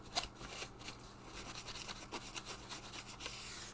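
A cloth rubs a maintenance product into the surface of a LARP foam sword, a faint, quiet scrubbing of short repeated strokes with a soft rasping texture and no voices.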